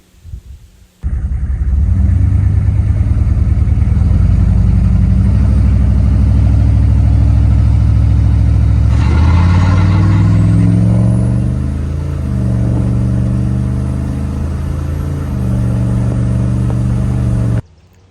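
A GMC 6.5L diesel truck engine, fitted with a fresh DS4 injection pump, runs steadily on a test drive, a loud continuous low rumble with a shift in pitch midway as it accelerates, no talking.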